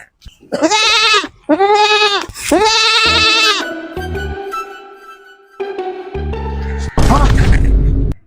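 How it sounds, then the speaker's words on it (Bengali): Three loud, quavering goat bleats come in quick succession up close, followed by a sustained tonal hum and a burst of rough noise near the end. "আমার একটা ছাগল চিল্লাইছে বে"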